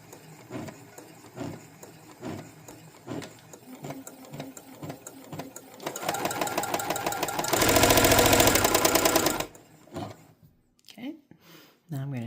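Brother CS6000i sewing machine with a seized bearing, running fast then slowing, its needle clatter rising to a loud dense stutter before cutting out, with some talk around it.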